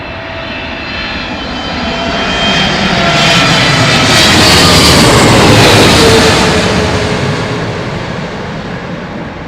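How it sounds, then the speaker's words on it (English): A Boeing 777 jet airliner passes at Heathrow Airport, its engines making a loud, broad roar that swells steadily to a peak midway and then slowly fades, with no voices over it. "that sounds like a 777."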